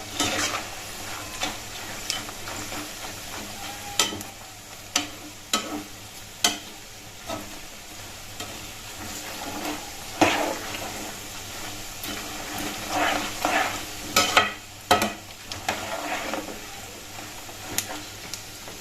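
Onions sizzle steadily in a hot pan, stirred with frequent light scraping and tapping of a utensil against the metal over a constant frying hiss.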